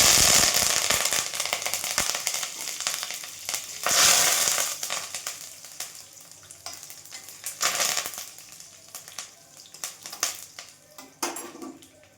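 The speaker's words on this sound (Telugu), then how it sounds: "ఎండుమిరపకాయలు వేసుకొని కరివేపాకు వేసుకుంటాం." Dried red chillies and curry leaves hit hot oil for a tomato pachadi tempering, giving a loud crackling sizzle with sharp pops that gradually settles into a quieter fizz, close up and without speech.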